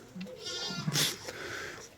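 A ewe on a farm where lambs are being born gives a couple of nearby bleats, one brief call early and a stronger cry near the middle, over low barn background noise.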